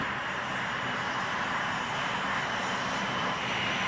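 An A-10 attack airplane's engines give a continuous, loud, even roar that holds steady throughout without breaks, and no one speaks.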